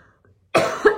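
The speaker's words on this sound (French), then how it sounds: "Et je tousse, c'est un truc de fou ça." After a brief silence, a sharp close-up cough bursts out, followed quickly by a second shorter cough.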